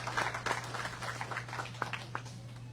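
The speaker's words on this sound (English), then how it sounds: "Give them a round of applause, please, because they do a wonderful job" Scattered applause from a modest audience at an appreciation ceremony for Fiesta store employees, faint and somewhat distant, with individual claps standing out over a steady low hum.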